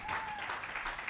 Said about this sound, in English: Megan's clapping for her.